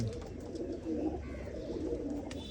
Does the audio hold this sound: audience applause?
no